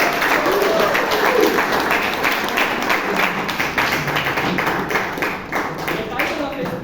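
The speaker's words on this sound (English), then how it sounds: "can we have a big round of applause for Toastmaster Vijay Kalkundri?" An audience at a Toastmasters meeting in Bangalore applauds a speaker, a dense round of clapping that fills the room and slowly thins out over several seconds.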